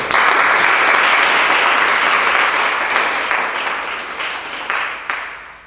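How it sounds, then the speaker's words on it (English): Loud, dense applause from a group clapping for themselves, starting at full strength and slowly thinning out, with a few last scattered claps near the end. "let's give ourselves a round of applause"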